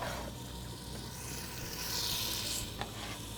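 Chopped onion sizzles in hot oil in a pot for beef stew, a close, bright crackling hiss that swells as the onion settles and stirs, with no talking.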